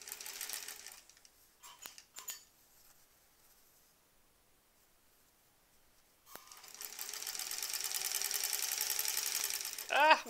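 Sewing machine stitching through several layers of quilt fabric: a fast, steady mechanical whir that starts after a quiet stretch and runs for a few seconds, preceded by faint handling clicks.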